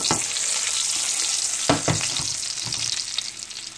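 Thin slices of beef for carpaccio sear in a hot pan, a steady bright sizzle with a few sharp spits and clatters as the meat is turned, close and alone with no talking.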